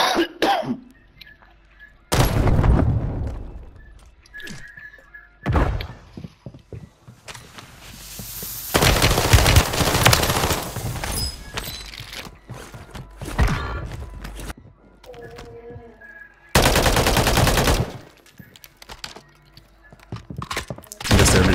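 Bursts of gunfire in a battle royale shooter game, loud broadband blasts in several separate clusters with quieter gaps between, some sharp single shots, no talk.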